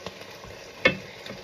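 Glutinous rice goes into a pan with a soft sizzle as it is stirred, and a short clink of a utensil stands out midway through the quiet frying.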